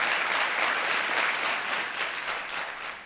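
Studio audience applause on the KBC quiz show, a dense, loud and continuous roar of many hands clapping that holds steady throughout.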